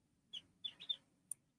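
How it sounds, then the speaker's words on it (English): Young chicks giving a few brief high chirps, sparse and faint, spaced irregularly over near silence. "You'll watch these chickens grow."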